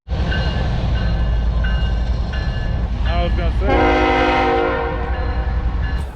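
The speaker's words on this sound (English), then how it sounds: "we've got a train moving in the background, so excuse the noise." A train rumbles steadily past near Baton Rouge, Louisiana, and sounds a loud sustained horn blast partway through, with someone talking over the rail noise.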